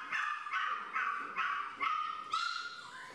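A beagle barks and yelps repeatedly in close, loud bursts, about six rapid calls in a steady rhythm with no talking.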